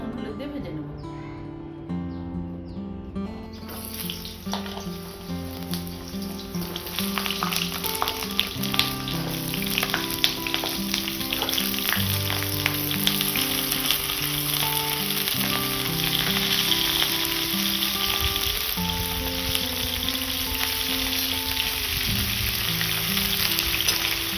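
Pointed gourd (potol) fries in hot oil for a long stretch, a loud continuous sizzle and crackle heard up close, with faint bird chirps in the background.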